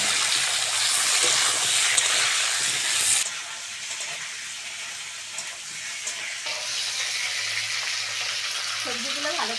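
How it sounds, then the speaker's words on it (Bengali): Vegetables frying in oil in a pan for a bottle gourd greens and fish curry, a loud close hiss and sizzle that drops back to a steadier, softer crackle partway through, alone without talk. "সবজিগুলো ভালো করে ভেজে নিয়েছি"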